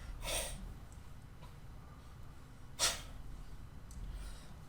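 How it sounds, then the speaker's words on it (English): A couple of quiet, sharp nasal blows and snorts with faint breathing between them, otherwise near silence. "I need to blow my nose"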